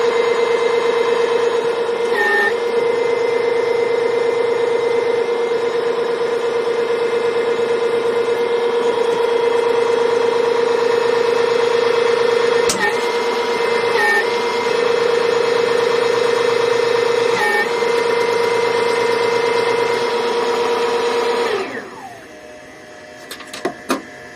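An electric mini loader raising its boom at maximum lift speed gives off a steady, loud electric motor and hydraulic whine with a constant tone and a few faint clicks. The whine winds down near the end and is followed by a couple of knocks.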